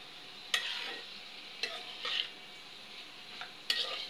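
Cauliflower and potato frying in a pan are stirred in a few distinct scraping strokes over a steady close sizzle, with no talk.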